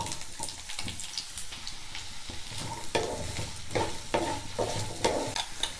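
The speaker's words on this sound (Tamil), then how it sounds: "எண்ணெய் சூடானதும் இதில் வெங்காயம் சேர்த்துருவோங்க." Onions frying in hot sesame oil in a pan while cooking mutton chukka, with a steady close sizzle and stirring scrapes that swell at intervals over about six seconds, and no talk.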